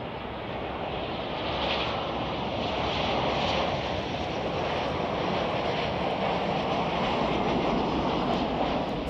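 An Air France Airbus A350-900 on its takeoff run at Chicago O'Hare produces a sustained, wide roar with some wind buffeting, steady and moderately distant, without any voices.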